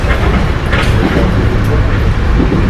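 Inside a Metro North Hudson Line express train bound upstate toward Poughkeepsie from Upper Manhattan, a steady loud rumble and roar of fast running on rails fills the car, with faint rattles and no break throughout.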